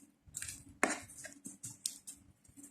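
Knife cutting food for fried meatballs (kofta) on a board, a handful of quiet close chops and clicks at irregular intervals with small scraping sounds between them.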